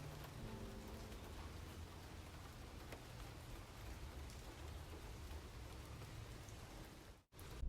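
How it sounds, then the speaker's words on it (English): Rain falling on a car windshield in a video game: a dense, steady hiss of drops like static, with a low rumble underneath, holding evenly before a brief cut near the end. "The raindrops falling onto the windshield sound almost like the static noise you hear on TV."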